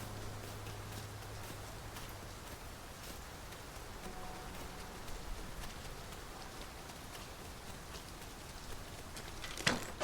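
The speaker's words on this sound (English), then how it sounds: "Must we do battle amidst this dreadful downpour?" Steady rain downpour in the Dragon's Dogma 2 video game, a soft continuous hiss of falling water with scattered drop patters, faint and even throughout with no speech.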